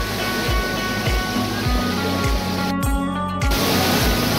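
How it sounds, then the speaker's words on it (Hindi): Düden waterfall in Antalya, Turkey, heard from close by: a steady, loud, broadband roar of falling water that fills the whole stretch without letup, with no talk over it. "हम वाटरफॉल के करीब आ चुके हैं"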